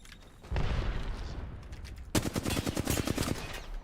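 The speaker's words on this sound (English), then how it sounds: "They're firing on me." Gunfire in Apex Legends: a heavy burst opens, then after a brief lull comes a rapid automatic volley of sharp, loud, closely spaced shots rattling in quick rhythm, close by.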